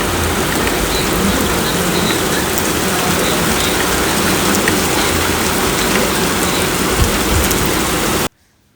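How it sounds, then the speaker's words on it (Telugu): Steady rain falls in a constant dense hiss and patter outside a room in Bhadrachalam, loud and unbroken for several seconds before cutting off abruptly, with no voices. "మేము రూమ్కి వచ్చినాక కాసేపట్లోనే వర్షం స్టార్ట్ అయింది"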